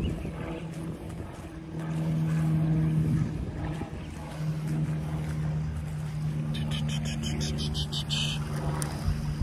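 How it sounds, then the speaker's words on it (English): A Mammotion Luba AWD 5000 all-wheel-drive robot lawn mower works a yard, giving off a steady, low electric motor hum with tonal whine, heard from nearby outdoors amid faint background noise. "We got an automatic robot mower, and we're gonna go follow it. It's doing its action right now."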